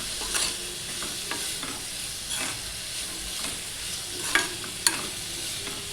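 Chopped beetroot being stirred with salt, turmeric and chilli powder in a pan for beetroot bhaji, soft sizzle under repeated scraping stirs, with a couple of sharper clinks of the spoon near the end.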